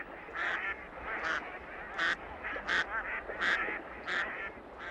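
Ducks and geese call repeatedly in a marsh, honking and quacking in a loose rhythm of roughly one call per second, fairly close and clear over a low background.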